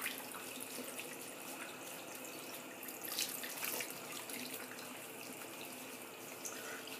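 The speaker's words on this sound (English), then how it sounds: "gonna wet my face again for the second pass." Water runs from a tap into a sink, a steady rush of splashing that holds throughout at moderate level, with brief louder surges as a face is wetted for a second shaving pass. No one speaks.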